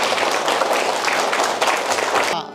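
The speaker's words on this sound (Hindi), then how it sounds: "तो सर के लिए ताली बजाइए आप लोग" An audience at a government school applauds a teacher, steady loud clapping filling the whole stretch before it cuts off abruptly at the end.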